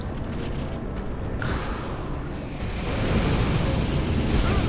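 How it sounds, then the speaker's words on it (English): Roaring blast of powerful fire in Dark Souls III, a dense whooshing rumble that swells louder partway through and keeps rushing steadily, with no talk over it. "That is lots of powerful fire."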